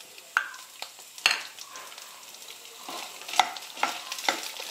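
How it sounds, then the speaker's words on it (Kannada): Dry red chillies frying in a little oil with chana dal and urad dal for a breakfast dish, scattered close clicks and scrapes of stirring over a soft, continuous sizzle, with no speech. "ಅವು ಒಂದು ಸ್ವಲ್ಪ ಎಣ್ಣೆಲಿ ಹುರ್ಕೋತೀನಿ ರೀ."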